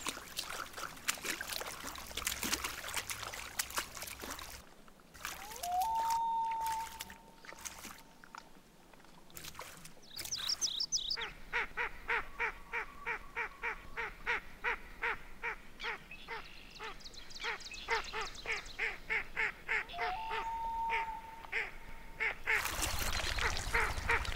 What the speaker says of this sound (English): In the meantime, there is action among the ring-necked ducks.